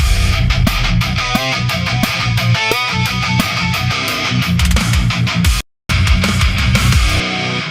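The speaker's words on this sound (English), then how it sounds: "So that's obviously very AI generated guitar." A dense, loud AI-generated electric guitar part with chugging low notes and bright, smeared distortion, briefly dropping to silence before resuming.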